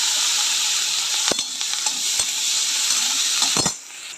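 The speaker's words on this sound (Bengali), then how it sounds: "এখন লঙ্কাটা দিয়ে দেব।" Green chilies dropped into hot mustard oil already sizzling with nigella seeds, a loud, steady, close hiss broken by a few sharp spatters and a clink near the end before the sizzle drops down.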